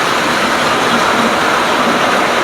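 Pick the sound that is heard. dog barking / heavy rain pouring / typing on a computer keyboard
heavy rain pouring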